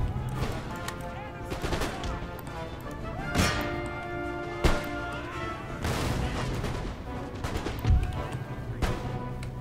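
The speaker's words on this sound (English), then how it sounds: "Good, stop canister-shotting the remnants." Canister shot and musket volleys in Empire Total War: dense, continuous rolling gunfire with repeated heavy cannon blasts cutting through the crackle, loud and sustained throughout, with a voice talking over it.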